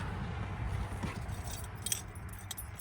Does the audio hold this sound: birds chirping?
no